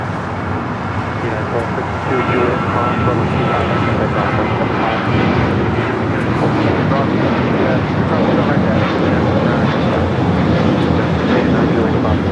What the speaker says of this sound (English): This is American Airlines 2388 taking off to Las Vegas on the 737-800.